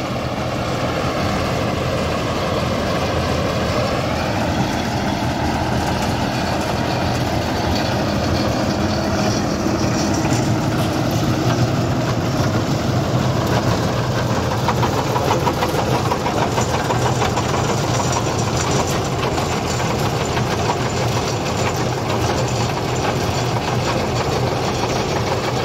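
A John Deere 5065 tractor engine drives a compost mixing machine at a sugar mill, making a continuous loud, even drone with a steady mechanical rattle, and no voices are heard.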